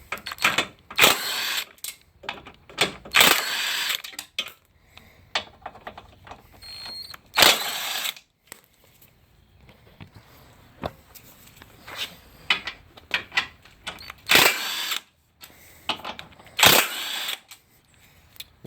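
Bolts being removed from the radiator area of a 2014 Kia Soul 2.0L GDI with hand tools: repeated bursts of clicking ratchet and metallic tool noise in short clusters, separated by quieter pauses, close and fairly loud.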